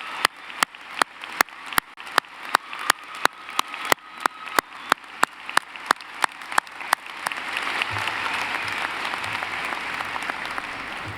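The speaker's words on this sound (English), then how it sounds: "Please join me in a round of applause for this impressive group." Graduation commencement audience in a large hall applauding the class of 2017 valedictorians, starting as sharp separate claps in a steady rhythm and swelling into dense, continuous clapping across the crowd.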